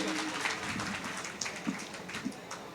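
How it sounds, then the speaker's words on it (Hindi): Crowd applause at a comedy show in Kamthee, a moderate, steady wash of clapping at middle distance with a few louder claps. "एक बार इनके सम्मान में दोनों हाथ खोल के तालियों का महोत्सव कर दीजिए।"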